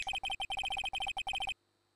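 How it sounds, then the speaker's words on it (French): A mobile phone ringtone in the video game Phoenix Wright: Ace Attorney plays as a rapid, bright electronic beeping melody in even bursts for about a second and a half, then cuts off into silence. "Ce n'est pas mon téléphone qui vient de sonner, mais le vôtre."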